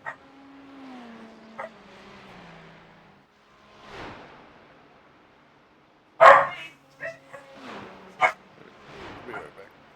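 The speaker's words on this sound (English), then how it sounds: "That's my dog getting furious because someone's at the door." A dog barks in a few sharp, loud bursts after a quieter stretch, with someone talking before and between the barks.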